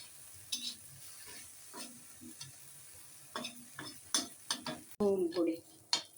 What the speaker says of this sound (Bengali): ঝুরা ঝুরা করে একদম ভেজে তারপর একটা বাটিতে উঠিয়ে ফেলবেন